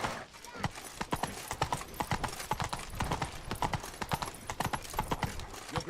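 Geralt's horse Roach gallops in The Witcher 3, hooves clip-clopping in a fast, steady rhythm close up, with game ambience and a faint murmur of voices underneath.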